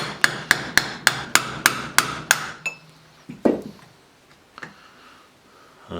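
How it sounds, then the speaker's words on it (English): Hammer blows tapping a sealed ball bearing out of a trailer wheel hub held in a vise: about nine sharp, evenly spaced metallic strikes ring out up close, followed by a few scattered clunks and a faint knock. "With the hub and the vise now, we can just tap out the outer bearing."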